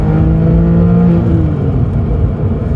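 A Porsche 911 996 4S accelerates hard while overtaking, its flat-six engine pulling loud and close from inside the cabin with a steady rising drone and no talk.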